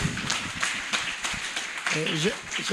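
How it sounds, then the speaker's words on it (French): Audience applause at a school excellence celebration at Stella Maris, moderate clapping running under someone speaking over a microphone. "Applaudissez."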